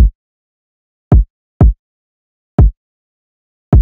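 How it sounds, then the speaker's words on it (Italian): A deep electronic kick drum from a rap beat thumps alone, five short punchy hits at irregular spacing with silence between them. "un kick che suona così"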